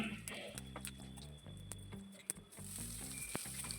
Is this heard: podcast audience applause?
no